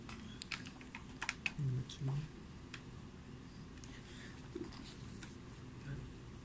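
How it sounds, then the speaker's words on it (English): Several faint, sharp clicks from computer keyboard keys being pressed, including the enter key, sound over quiet room tone with a soft low hum. "please click on enter"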